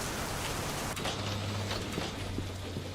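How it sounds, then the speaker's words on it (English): Heavy rainfall in the life-simulation video game Big Ambitions, a dense continuous hiss of rain on surfaces at moderate level with faint clicking patter, no voices. "Oh, that rain is so loud."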